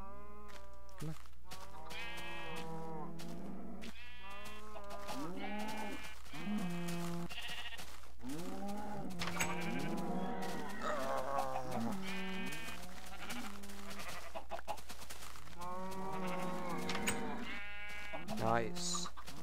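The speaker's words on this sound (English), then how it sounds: "Now there's like one more rogue sheep over here that I have to deal with." Many sheep in Minecraft bleat over and over, overlapping cries that come close and loud across twenty seconds above a constant low hum.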